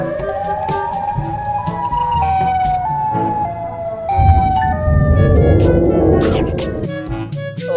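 A wailing siren from the Siren Head creature in a dinosaur-hunting video game rises and falls in long sustained tones, loud and close, with a rumbling burst of game noise swelling in the middle.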